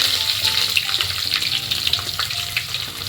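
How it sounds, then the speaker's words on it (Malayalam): Green chilli, sliced ginger and garlic sizzle steadily in a hot pan for a dried prawn and mango curry, with a continuous loud frying hiss and light stirring scrapes throughout, no voices. "ഒരു കാൽ കപ്പ് ചെറിയ ഉള്ളി അരിഞ്ഞു വെച്ചത് എന്നിവ ചേർത്ത് വഴക്കാം"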